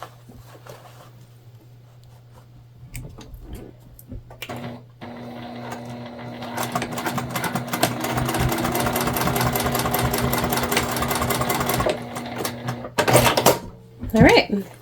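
A sewing machine runs steadily for about seven seconds, basting layers of an Explorer Sling bag, with softer handling noises and quiet talk before the stitching and brief clatter after it stops.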